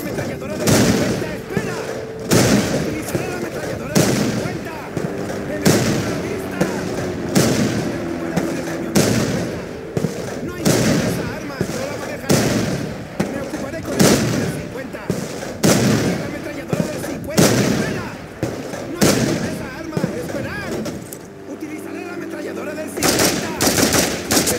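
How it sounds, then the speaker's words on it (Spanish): A .50 caliber machine gun in the video game Mercenaries hammers out repeated loud bursts with short gaps, sustained over the whole stretch, while voices speak over the firing. "La ametralladora del 50, espera."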